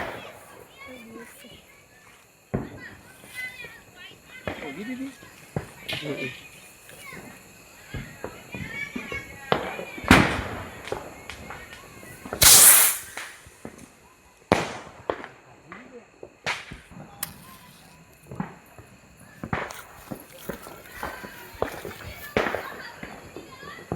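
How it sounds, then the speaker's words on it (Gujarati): Diwali rockets and firecrackers go off, with sharp bangs and a loud whooshing burst midway. Children talk and play throughout. "તો હવે આપણે જાય છે રોકેટ."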